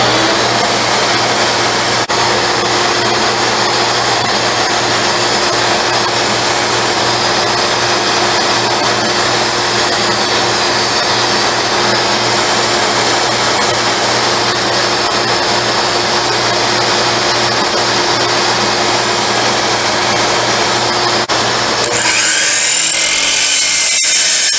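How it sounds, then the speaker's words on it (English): A power miter saw cuts recycled wood at a 15-degree angle while building sawhorses, producing a loud, steady motor whine and grinding that runs unbroken for over twenty seconds before winding down, with no talk. "I'm going to use the 15 degree miter cut"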